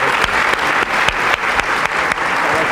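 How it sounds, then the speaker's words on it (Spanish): Audience applause at a lecture on liberty by Mario Vargas Llosa, a steady, loud burst of many hands clapping at once, dense and continuous across the whole stretch with no voices over it. "Un aplauso nuevamente para nuestros invitados."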